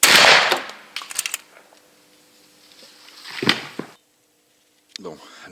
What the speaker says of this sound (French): Je vais la tirer à 20 mètres.